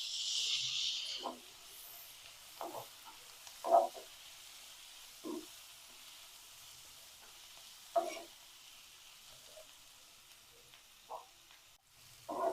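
Onions, sliced tomatoes and turmeric sauté in oil in a pan, a soft, steady sizzle broken by a few brief stirring scrapes, close and quiet.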